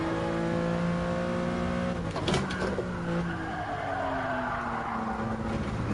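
Race car engine in Gran Turismo Sport revving with a steady harmonic whine, then dropping sharply through a gear shift and climbing again, loud and close, with faint tire squeal and no voices.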